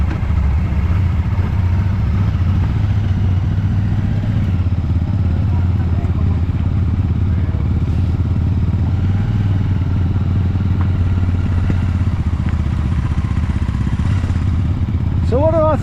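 A Royal Enfield Shotgun 650 twin-cylinder engine drones steadily while riding, a continuous low rumble with wind and road noise running the whole way, close and loud.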